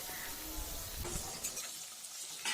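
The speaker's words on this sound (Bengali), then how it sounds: "পেঁয়াজটা আমাদের ভাজা হবে গোল্ডেন কালার আসবে" Chopped onion fries in hot oil with cumin, cardamom, cinnamon and cloves for a moong dal with fish head, giving a steady, close sizzle that thins out near the end, with no voices.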